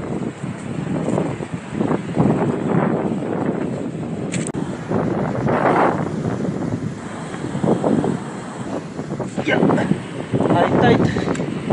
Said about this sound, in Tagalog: Kung mapapansin nyo, napakalakas ng alon.